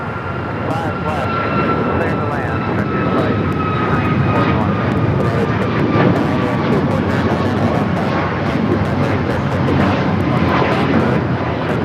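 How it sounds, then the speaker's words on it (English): An Alaska Airlines Boeing 737 MAX 9 takes off from LAX bound for Los Cabos, its engines giving a steady, loud roar with a faint rising whine that holds throughout, while people talk over it. "This is Alaska Airlines 332 taking off to Los Cabos on the MAX 9."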